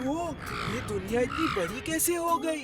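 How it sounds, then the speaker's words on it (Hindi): A harsh crow caw from the cartoon Vir The Robot Boy, heard under a child-like cartoon voice that talks throughout the clip. "ये कौवा मेरे पीछे क्यों पड़ा है?"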